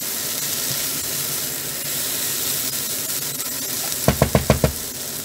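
Onion and chorizo frying in a pan for a chicken and vegetable dish, a steady hiss of sizzling throughout, then a quick run of five sharp knocks near the end, with no talking.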